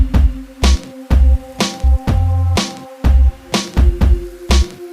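A sampled beat loop, with the piano sample and hi-hat stripped out, plays loud. Punchy kick and bass hits and sustained tonal stabs repeat in a steady groove over several bars, with no voices.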